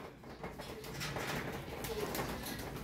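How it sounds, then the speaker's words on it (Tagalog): Jansen racing pigeons coo softly in their loft during rain, their low, faint calls half-buried under a steady wash of rainfall, with no voices present. "ito yung mga ibon mo yan. Ito yung Jansen."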